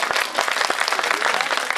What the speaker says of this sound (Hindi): एक बार जोरदार तालियां बजा दो